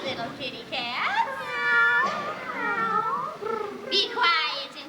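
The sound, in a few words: actor imitating a cat meowing in a Wizard of Oz play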